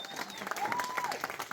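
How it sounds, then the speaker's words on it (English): An audience applauds at a street art project Q&A, a steady, moderately quiet patter of clapping sustained throughout without breaks. "so round of applause for those guys"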